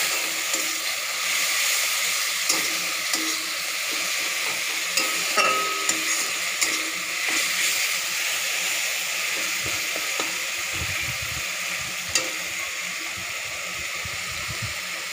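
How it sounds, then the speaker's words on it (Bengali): Spice paste thinned with a little water fries for a yogurt chicken curry, giving a steady broadband sizzle with occasional soft clinks and scrapes of stirring throughout. "এবার মশলাটা ভাজা হওয়া অবধি আমাদের অপেক্ষা করে থাকতে হবে।"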